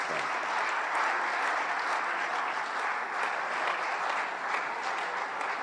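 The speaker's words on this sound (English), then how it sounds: "Please, another round of applause to the Dean of the Diplomatic Corps." An audience applauding at a New Year diplomatic reception with the Tanzanian president and ambassadors, a dense sustained clapping from many hands that holds steady throughout.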